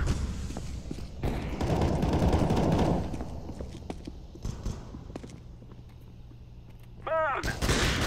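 Gunfire and explosive bursts in Counter-Strike: Global Offensive, including a dense roaring burst, scattered sharp shots and a hissing release as a smoke grenade goes off, loud and close, ending in a rapid rattling volley.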